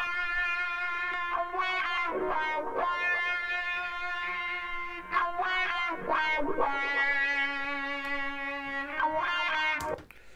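A distorted electric guitar solo plays sustained notes and bends, its tone sweeping and swelling in a vocal, wah-like way from a wah effect, with no voices.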